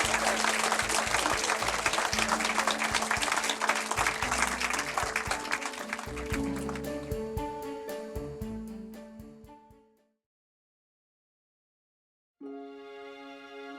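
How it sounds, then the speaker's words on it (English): Audience applause rings out for women of a community kitchen, dense clapping that fades away to silence, followed by music starting up. "Another round of applause for the women of the Hub Community Kitchen."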